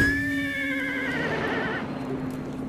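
A horse whinnies in a video game, a loud wavering neigh lasting about two seconds over a steady background hum.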